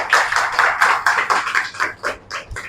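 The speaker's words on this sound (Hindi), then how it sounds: "हमारे महागुरु के लिए जो है कि एक बार जोरदार ताली बजाइए" An audience claps loudly in a steady, rhythmic unison for a guru, the claps coming about four per second and easing off slightly toward the end.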